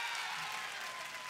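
Studio audience applause on a Spanish-language TV variety show, a steady, dense wash of clapping holding at an even level for about a second, with no voices over it.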